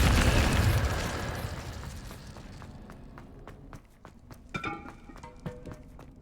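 A fire spell cast in the video game Hogwarts Legacy erupts in a loud whooshing burst that fades over a few seconds, followed by scattered crackles, pops and small impacts.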